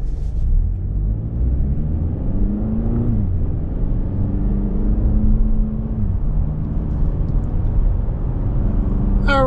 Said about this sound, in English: we're going down the road in this 24 Camry SE Nightshade with the all-wheel drive